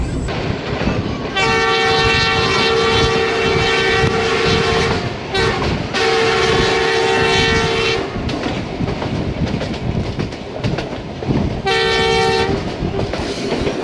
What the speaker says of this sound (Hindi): बुल्ले शाह पैसेंजर कसूर की हदूद में दाखिल हो चुकी है